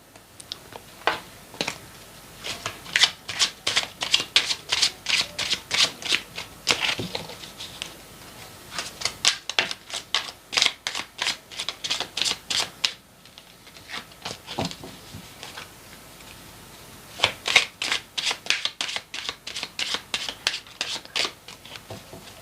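Tarot cards shuffled by hand in rapid riffling bursts, repeated several times with short pauses between, close and crisp with no speech.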